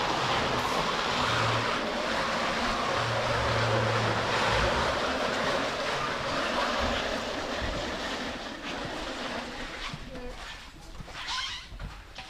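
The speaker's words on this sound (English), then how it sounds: "Next up, we're gonna obviously pressure wash it" A pressure washer sprays down a car's stripped engine bay and inner fender aprons, a loud steady hissing rush of water that fluctuates and thins toward the end, with speech faintly underneath.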